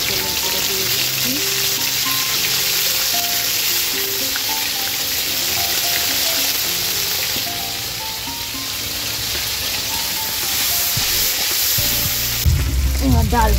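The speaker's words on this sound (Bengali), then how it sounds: "তারপরে মৌরি আর লঙ্কা ফোড়ন দিলাম, মৌরি আর আদা আর লঙ্কা কাঁচা তেলের করে দিয়ে দিচ্ছি" Fennel, ginger and green chilli tempering sizzling in raw oil in a kadai for a Bengali whole urad dal, a steady close hiss of frying with a brief clatter near the end.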